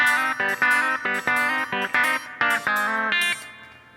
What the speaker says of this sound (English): this cool little double stop slide to open string.